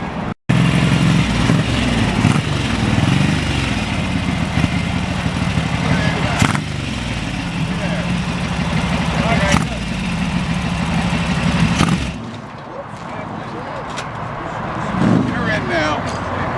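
Old motorcycles arrive and idle at an outdoor bike night, a continuous, loud engine rumble with occasional revving swells under steady crowd chatter and nearby voices.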